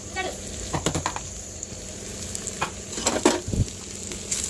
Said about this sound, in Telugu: అందులోనే కాకరకాయ వేసుకొని తర్వాత మనం గ్రైండ్ చేసుకున్న పౌడర్ని కూడా వేసేసి బాగా కలుపుకోవాలి